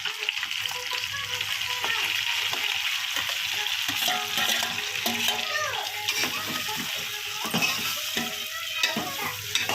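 Chopped tomato pieces frying in a pan for an egg curry hiss with a steady close sizzle while a spoon scrapes and stirs, and a voice is faintly heard in the background.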